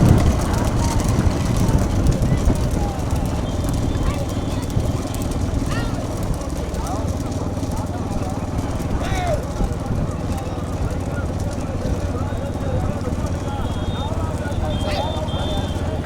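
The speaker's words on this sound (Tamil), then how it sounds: "பின்னாடி மாடு வருது. தள்ளி வாங்க" Cattle hooves clopping as a young bull approaches along an outdoor path, scattered hoof knocks beneath steady crowd noise, wind and people talking throughout.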